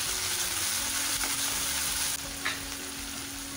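Onion and tomato for brinjal masala cooking in a pan, a dense, steady sizzle close by that eases slightly partway through, with one faint stir.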